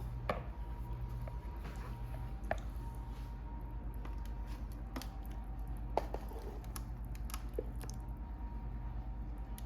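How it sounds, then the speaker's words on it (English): Casserole mixture spooned onto tortillas in a kitchen, giving soft wet squishes and scattered light taps of the spoon over a low steady background hum. "we're going to take and put half of this mixture onto the tortillas now"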